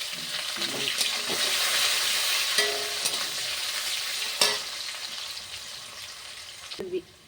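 Chopped onion frying in hot oil after a tempering of bay leaves, green chillies and whole garam masala for a mutton kosha, with a steady loud sizzle, stirring scrapes and occasional clinks of a utensil.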